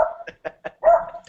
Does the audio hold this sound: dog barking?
yes